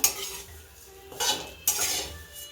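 Vermicelli roasts in a pan, stirred with a metal spoon: close clinks and scrapes against the metal come in two or three short bursts over a faint, steady sizzle.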